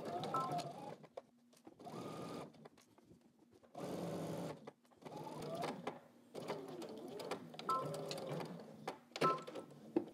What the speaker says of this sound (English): we're gonna go ahead and stitch this down